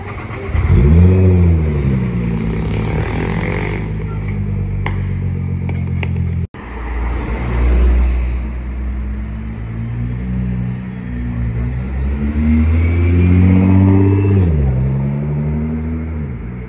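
A Nissan GT-R sports car revs hard and pulls away at a car-spotting meet in Gérardmer, its engine rising and falling through several loud, sustained revs that fill the whole stretch with strong, close rumble.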